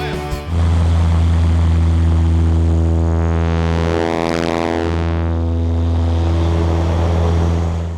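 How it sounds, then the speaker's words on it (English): A new Great Lakes biplane flying aerobatics gives a loud, steady propeller-engine drone that swells and shifts in pitch as it passes near midway, then settles back to a constant roar. "This video shows the new Great Lakes biplane in action."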